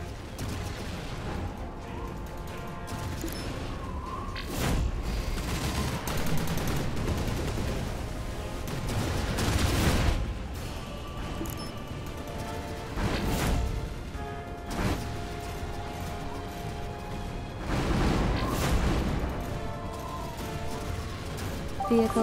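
Turret gunfire and explosions in the video game Anno 2070, rapid bursts of automatic fire with heavy blasts swelling at intervals, a dense continuous battle din at moderate loudness.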